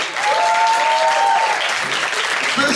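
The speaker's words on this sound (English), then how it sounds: "Let's give a round of applause for Paulie." A studio audience claps loudly and steadily for a guest arriving from Dublin, Ireland, a dense close wash of applause that holds throughout while a host speaks over it.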